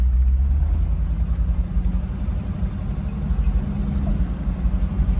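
A 1968 Shelby GT500KR convertible, an automatic with 3.91 gears, pulls away with a steady, moderately loud low engine rumble that holds evenly throughout the clip.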